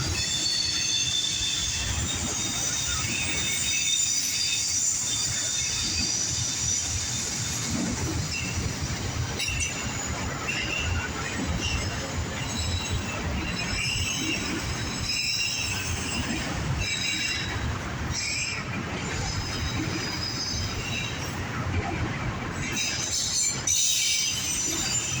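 A northbound CSX autorack freight train rolls past close by, its wheels squealing loudly and steadily for the whole stretch over a constant rumble, with no talk.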